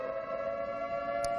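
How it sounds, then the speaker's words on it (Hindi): A civil defense siren sounds in wartime Kharkiv, Ukraine, as one steady, loud, sustained wailing tone that holds level throughout, with no voices over it. "सायरन बजा है"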